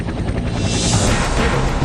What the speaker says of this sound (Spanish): Lo que se escucha en la distancia es un helicóptero de Naciones Unidas que recorre el bosque en busca de Chris y su equipo.